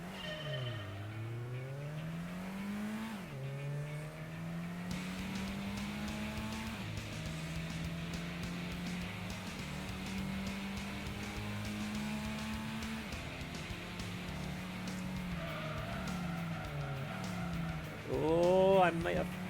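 Nissan Silvia race car in Gran Turismo droning steadily with shifting engine pitch, then a short burst of tire squeal as it skids near the end, with a voice talking over it throughout.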